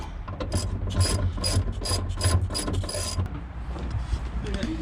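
A ratchet wrench turns a 12 mm bolt that holds the rear seat of a Genesis Coupe. The clicking comes in quick close bursts, loud and repeated, with short pauses between the runs.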